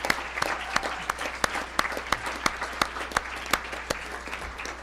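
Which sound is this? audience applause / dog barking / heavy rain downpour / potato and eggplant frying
audience applause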